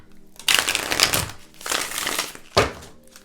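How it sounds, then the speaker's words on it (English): Tarot cards being shuffled by hand make three distinct riffling bursts of papery rustle, each about a second long, close up and moderately loud. "I'm just going to shuffle this a couple more times."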